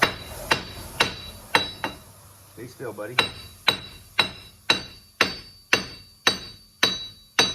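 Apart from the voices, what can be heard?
hammer tapping on wheel hub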